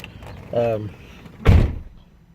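A truck door handle clicks and rattles, followed a moment later by a loud solid thunk as the door shuts, heard close up in a quiet cab.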